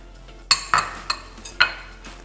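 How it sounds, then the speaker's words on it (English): A spoon clinks against a bowl several times while banana chocolate oat bar mixture is stirred, giving sharp, close metallic taps at irregular intervals. "And give that a good stir through"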